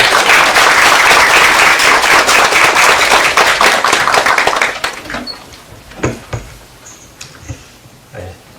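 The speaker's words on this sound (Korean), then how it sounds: "나오실 때 큰 박수로 환영해 주시기 바랍니다." A church congregation at a spring revival service at Keimyung University Dongsan Hospital in Daegu claps loudly and densely to welcome a preacher to the pulpit, the applause holding strong for several seconds before thinning to a few scattered final claps.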